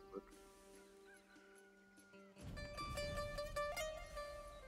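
A honking, crowing call of the magic cockerel in Divinity II rings out over game music and effects, with a voice talking faintly beneath.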